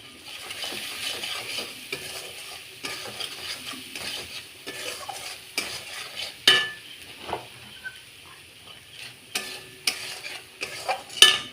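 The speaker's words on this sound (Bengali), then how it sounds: "এবার খানিকক্ষণ আমি এটাকে কষাবো, মশলাটাকে" Ground spices with cumin powder and salt being stirred and fried in a pan, giving a soft continuous sizzle broken by intermittent scrapes and clinks of a spoon against the metal.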